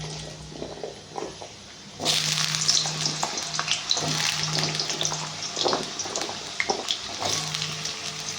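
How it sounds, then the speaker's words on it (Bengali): Potatoes frying in hot oil in a home kitchen: a soft, quiet start, then from about two seconds a loud, dense sizzle that carries on steadily to the end, with a low hum and scattered crackles. "তেলটা গরম হয়ে গেছে, আলুগুলো ভেজে নেব"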